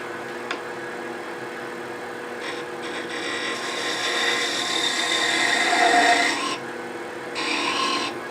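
A skew chisel makes light finishing cuts on a small wooden hair stick spinning on a lathe, giving a steady scraping hiss that rises for a few seconds and then eases off as the tool is lifted away.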